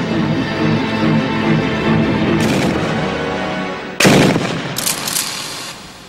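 A Kord 12.7 mm heavy machine gun fires outdoors on a test range in loud, sharp bursts, with booming reports and ringing echoes and a brief pause between volleys.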